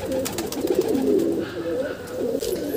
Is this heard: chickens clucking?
no